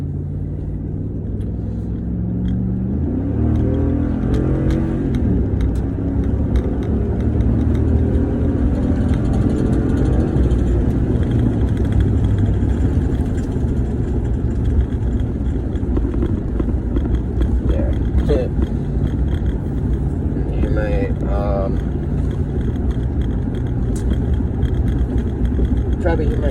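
A car engine runs steadily throughout a drive home from work, a constant low rumble with occasional faint revving, under nearly continuous talk from the driver.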